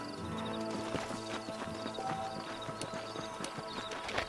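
Horses in the Red Dead Redemption video game clip-clop at a walk after their riders dismount, a steady patter of hooves layered with game music, with a horse neighing near the start.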